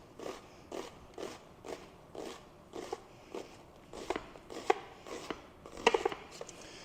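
A knife slices lengthwise through an onion on a cutting board, about a dozen crisp, evenly spaced cuts that grow sharper and crunchier toward the end, close and fairly quiet with no talking.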